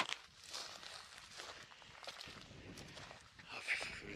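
Footsteps crunch along an outdoor hiking trail near Yukarı Ovacık, a quiet, uneven walking rhythm close to the microphone with faint rustling and light wind.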